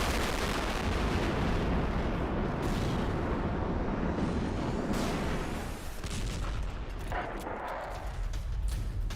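Rocket attack explosions fired by Hezbollah on Kiryat Shmona, Israel: a dense, continuous roar of blasts and rumbling booms with crackling bursts, loud and sustained throughout with no voices.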